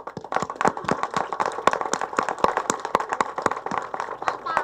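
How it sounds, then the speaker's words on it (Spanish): An audience at a public electricity utility event in a neighbourhood getting regularized connections claps steadily, a dense run of sharp close hand claps from a modest group, without any speech. "para las que pido un gran aplauso"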